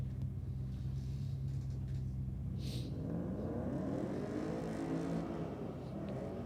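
Ute and VW drag racing at Sydney Dragway, a steady low engine rumble with rising revving tones partway through, heard from a distance and continuous.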